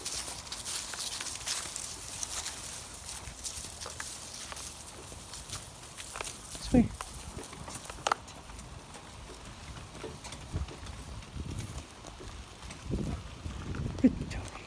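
Donkey hooves clop slowly on the ground, scattered steps rising above steady outdoor noise while a person speaks briefly.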